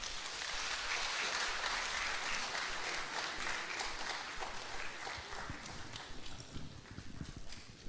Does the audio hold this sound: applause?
yes